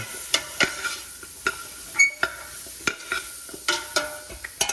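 Garlic being stirred in a pan over low heat for smothered pork tips, with soft sizzling and a steady series of scraping stirs and clinks, fairly quiet and with no talk.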